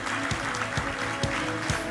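Applause at the Alsatian football trophies ceremony at the Royal Palace, a steady dense patter of clapping from a seated audience with a few louder accents, continuous over a low hum, no talking.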